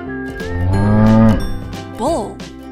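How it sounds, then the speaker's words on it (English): A bull gives one long, loud, close moo that swells and then drops off, followed by a shorter lowing call. "Bull."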